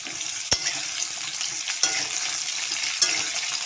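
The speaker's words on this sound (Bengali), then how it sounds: "সবজিগুলো দিয়ে একটু ভাজা ভাজা করে নেবো" Steady sizzling of vegetables frying in a pan, broad hiss throughout with a few sharp clicks of a utensil striking the pan.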